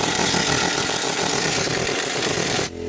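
Impact wrench set to level 3 and running in reverse to loosen a 19 mm bolt on a Jeep TJ Wrangler Smittybilt bumper, a loud, steady buzzing hammer whir that holds for nearly three seconds and then cuts off abruptly.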